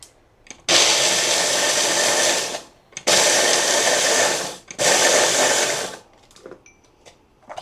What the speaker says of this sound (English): we're gonna go ahead and blend this down to make the crumb